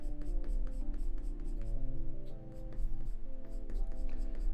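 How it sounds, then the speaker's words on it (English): A pencil squeaks on paper while shading larger areas of a portrait drawing, giving a close, continuous scratchy rubbing with wavering squeaky tones throughout. "sometimes with bigger areas this pencil tends to squeak"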